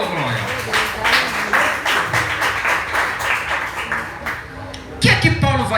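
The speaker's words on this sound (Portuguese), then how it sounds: "Aplauda Jesus, meu irmão" A church congregation at a youth service applauds, with dense clapping from many people throughout and a voice speaking near the end.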